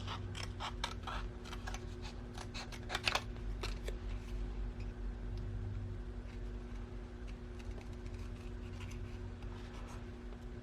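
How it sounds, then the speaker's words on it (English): Scissors snip paper in a quick burst of crisp clicks and cuts, then slower scattered snips as the paper is turned while cutting out a Christmas shape, close by over a low steady hum, no talking. "And I'll turn the paper as I'm cutting"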